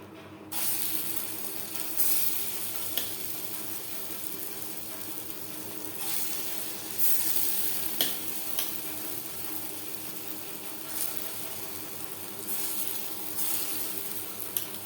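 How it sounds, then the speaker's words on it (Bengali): Lentil fritters of ground dal frying in oil, a continuous broadband hiss with gentle surges and a few soft ticks. No one talks. "ডালের বড়া ভেজে নেব"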